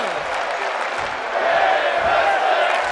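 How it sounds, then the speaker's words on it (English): A wrestling crowd claps and cheers in a sustained broad roar of applause across the whole stretch, loud and close, with no voices standing out. "And listen to this crowd! They're loving what these two women are doing right now."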